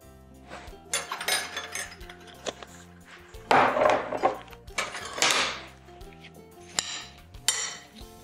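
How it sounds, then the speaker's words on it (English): Cut red potatoes being stirred with olive oil in a bowl, giving irregular clinks and scrapes of a utensil against the bowl in short bursts, close and fairly quiet, with no talking. "Just stir it together to get all the potatoes coated with olive oil."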